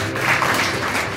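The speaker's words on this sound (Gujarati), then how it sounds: "તાળી પાડી આપે." A congregation claps together during a church sermon, producing a steady, dense wash of hand claps that holds at an even level throughout with no voices on top.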